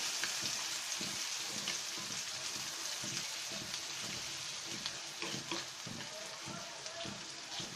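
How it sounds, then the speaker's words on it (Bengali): Steady, dense sizzling of onion, garlic and cumin frying crisp in hot oil, with occasional louder crackles and faint stirring throughout. "জিরা সহ আমরা আমাদের পেঁয়াজ আর রসুনটা ভাজতে দিয়ে দেব"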